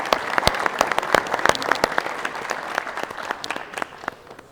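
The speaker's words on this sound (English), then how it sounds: "let's all give him a round of applause and say, job well done" A crowd breaks into applause, a burst of many hands clapping at once that carries on steadily before starting to taper off.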